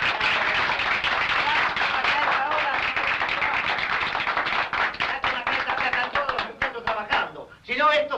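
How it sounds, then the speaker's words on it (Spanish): An audience applauds for comrade Barrera at a political gathering: a sustained burst of clapping, fairly close and busy, thinning out toward the end as voices come through. "¡Aplausos para el compañero Barrera!"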